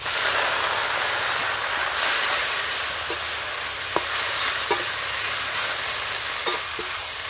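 Washed greens hit a hot wok with a hilsa fish head, giving a continuous loud hiss and sizzle broken by a few sharp ladle clinks and scrapes.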